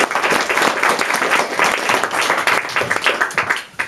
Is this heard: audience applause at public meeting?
yes